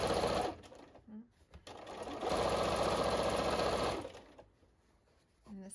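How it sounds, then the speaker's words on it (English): A Bernina 440 sewing machine quilting a spider web pattern runs in rapid, even stitching bursts, starting and stopping with a long steady run in the middle, close and clear. "I'm sewing."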